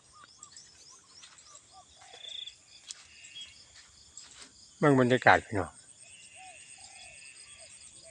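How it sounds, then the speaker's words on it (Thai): Birds calling outdoors at about six in the morning in rural Thailand, with chirps and trills scattered over a steady hum of crickets and insects. A brief loud burst of noise cuts in midway, and someone speaks faintly. "ฟังเสียงนก"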